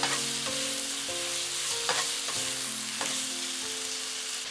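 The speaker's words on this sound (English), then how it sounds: "Stir for 1 minute and 30 seconds." Shrimp seasoned with salt, pepper and Shaoxing cooking wine stir-fry in a pan, giving a loud continuous sizzle with repeated scraping strokes of a utensil against the metal, no talking.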